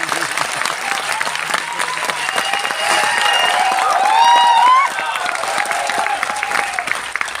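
An audience claps together on command in a direct selling training hall, a dense, steady burst of applause that swells briefly in the middle and fills the room.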